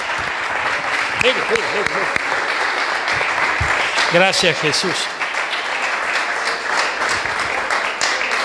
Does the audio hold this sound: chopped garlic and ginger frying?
no